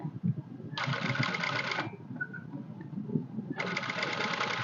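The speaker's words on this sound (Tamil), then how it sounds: "அந்த தையல் மேலேயே தைக்க போகிறீங்க." A sewing machine stitches fabric while sewing invisible piping on a princess-cut garment, two bursts of rapid whirring stitching separated by a pause, with someone talking softly underneath.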